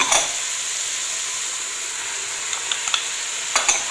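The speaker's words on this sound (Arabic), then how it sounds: "البصل تاعنا راهو يتحمص، نزيدو ندخلو الثوم ونجيب الزروديه والقرعه تاعنا ونخليهم يتحمسوا كامل" Onion, garlic, carrot and squash frying together in a pan, a bright continuous sizzle up close, with a few light stirring clinks and crackles toward the end.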